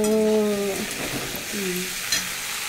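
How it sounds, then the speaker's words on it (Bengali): Soybean curry fries in a pan over a lowered gas flame, giving a steady sizzle with light stirring, while a voice hums or sings briefly at the start and again partway through. "গ্যাসটা সিম করে খুব ভালো করে ভেজে নেব"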